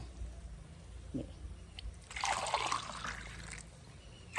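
Liquid fertiliser concentrate being poured into a cup holding three glasses of water for diluting, used for growing chillies at home, with a soft trickling splash rising midway through the clip against a quiet background.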